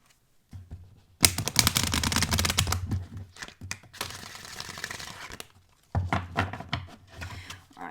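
Oracle cards, slightly sticky, are overhand shuffled by hand in several quick bursts of papery riffling and rustling, close up, separated by short pauses.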